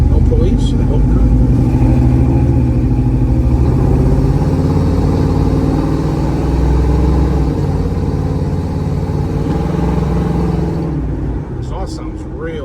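A 1967 Chevrolet Camaro with a 396 engine rumbles steadily from inside the car while driving, a deep continuous low drone that eases slightly near the end as a voice briefly speaks.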